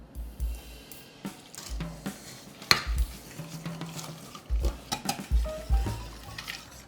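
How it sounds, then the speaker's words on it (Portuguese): Egg yolks, sugar and cornstarch being stirred in a pot, with sharp intermittent clinks and scrapes of a utensil against metal and soft thuds, close and fairly quiet. "Vamos colocar as 6 gemas num tacho, o açúcar e a farinha maisena. Vamos mexer bem."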